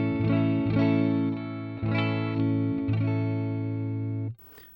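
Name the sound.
electric guitar clean tone on neck pickup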